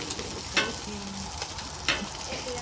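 Fried rice sizzles loudly on a homemade hibachi grill, a steady close frying hiss broken by two brief scraping stirs of a utensil; nobody speaks.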